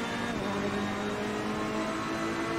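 A Ferrari 488 GT3 racing at the Hungaroring in AC Competizione gives a steady, loud engine drone with a sustained whine and slight pitch shifts as it holds speed.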